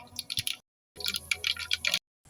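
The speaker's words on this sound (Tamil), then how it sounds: "எண்ணெய் காஞ்சிட்டு கடுகு போட்டுக்கலாம்." Mustard seeds sputter and crackle in hot oil while a Tamil chickpea dish is tempered in a home kitchen, heard as two close bursts of dense popping separated by a short pause.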